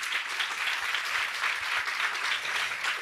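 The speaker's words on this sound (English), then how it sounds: "in applauding them." Audience applause at the close of a panel discussion at the OECD Forum 2018, a dense, even wash of clapping from a large crowd lasting the full few seconds without talk.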